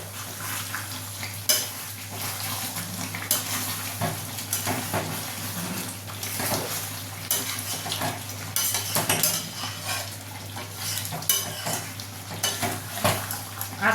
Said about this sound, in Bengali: আবার একটু আমি ঢাকা খুলে দেখে নেবো যে আমার এটা কতটা হয়েছে